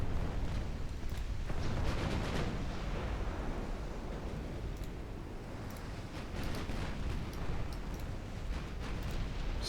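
Warship explosions and secondary blasts during a naval battle in a video game, a continuous dense rumble of booms and crackling bursts throughout, with sharper impacts scattered across the whole stretch.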